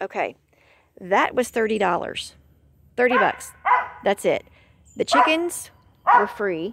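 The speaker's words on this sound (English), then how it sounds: "I apologize for my dog. He barks freaking all the time." A dog barks and yips in several short bursts, close by, mixed with a person speaking between the barks.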